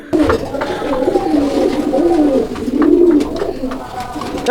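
Domestic pigeons at a market stall in Bangladesh coo in overlapping low, rolling calls, steady and close, with a murmur of people in the background.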